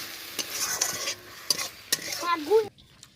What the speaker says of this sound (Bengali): এখন ডিম দিয়ে এটাকে একটু ভালোভাবে মিক্স করে নিতে হবে